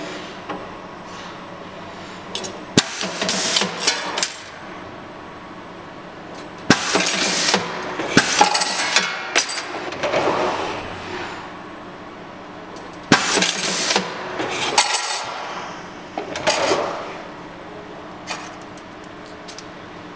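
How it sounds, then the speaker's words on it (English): An ALO 177 variable pitch machine cycles through repeated bursts of loud, broadband mechanical noise separated by quieter running stretches, with no talking. "so I start the machine"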